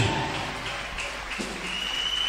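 A church congregation applauding and cheering, a steady wash of clapping that holds at an even level and fills the hall, with no speech standing out.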